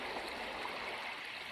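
Creek water flows steadily nearby, a continuous broadband rush and trickle with no pauses, heard alone without voices.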